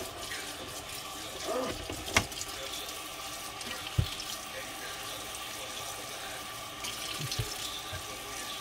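Water sloshes and trickles in a basin as grapefruit is washed in soapy water, with occasional splashes and knocks, quiet and close, with a faint hum in the background.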